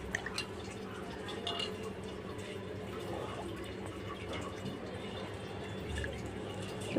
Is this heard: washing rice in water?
yes